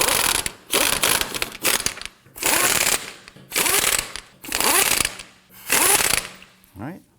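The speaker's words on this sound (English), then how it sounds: "Once we get all these installed, we go ahead and snug them down" Lug nuts on a 2015-2024 Nissan Murano wheel being snugged down with a hand ratchet during rear control arm work: five or six close, loud bursts of rapid ratcheting clicks separated by short pauses.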